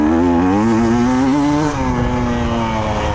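A GasGas dirt bike ridden on a grass track in Italy screams loudly and close, its engine pitch climbing then easing off under throttle over a few seconds.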